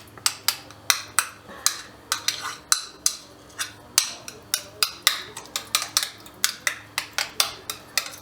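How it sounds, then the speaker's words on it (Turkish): Spoon beating softened homemade butter in a bowl, rapid rhythmic clacking strokes against the bowl repeating steadily and close up throughout, with no talk. "İyice böyle bir çırpma işlemi yapıyorum tereyağını."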